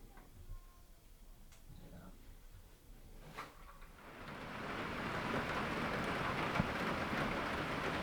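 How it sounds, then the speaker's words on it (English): Rain falls in Maine near Acadia National Park. Faint at first, it swells after a few seconds into a steady, dense, close hiss of downpour that continues to the end. "Not supposed to be raining near as bad on the coast."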